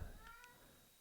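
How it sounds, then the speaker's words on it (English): A single soft cat meow, faint and brief, heard alone in a quiet room. "I don't know if you can hear my cat meowing."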